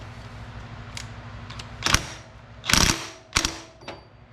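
A hand tool works on a Shovelhead motorcycle transmission mainshaft nut, giving a few loud, close mechanical clunks and ratcheting clicks spaced irregularly, with small taps between.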